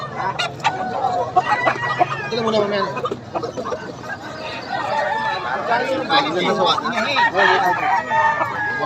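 Roosters crow repeatedly and chickens cluck at a gamefowl yard in Bocaue, loud and close, over steady chatter from several people talking.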